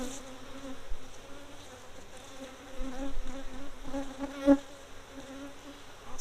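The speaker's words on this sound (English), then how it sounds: "Packed full of bees." Honey bees swarm and buzz around an open hive packed with bees and drones, a steady close hum with shifting tones and a brief louder swell as one passes near.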